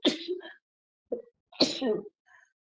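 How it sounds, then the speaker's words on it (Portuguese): Two quick sharp sneezes from a woman, close and abrupt, separated by a short pause with a brief breathy sound between them. "eu sempre espirro"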